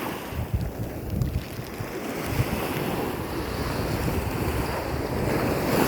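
Sea waves wash and roll under strong gusting wind on a boat out crabbing after morning rain, a loud continuous broadband roar with heavy wind buffeting on the microphone.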